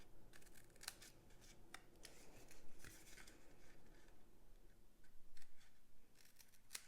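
Scissors snip short score lines and angled cuts in cardstock, a series of faint, quick crisp cuts at irregular intervals over a quiet background.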